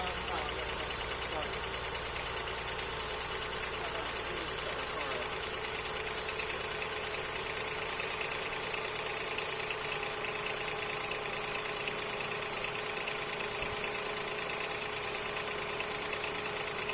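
A 2007 Honda Accord 3.0 V6 engine runs loudly at a steady idle with a constant hum and vibration, even and close, with no talk over it.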